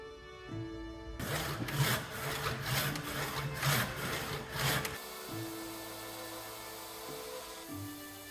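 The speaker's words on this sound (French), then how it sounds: "le ponçage est fait à la main pour venir chercher les détails" Hand sanding and carving of a wooden handle for an artisan knife, a steady rough rasping and scraping close by that comes in repeated strokes over a low background hum, then eases off toward the end.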